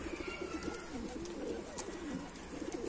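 Domestic pigeons, including tumbler breeds, coo in soft, repeated throaty calls, fairly faint and close, over a low background hum with no talk.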